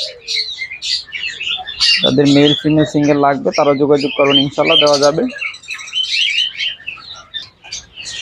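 Dense, steady chirping and tweeting comes from many caged birds at a seller's stall of adult pairs and doves, continuous and close, while someone talks loudly over them for several seconds.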